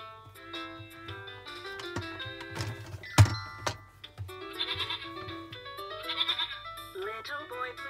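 Sheep bleating from a VTech toy song book with a children's nursery tune, several short electronic bleats over bright synthesized music, close and moderately loud.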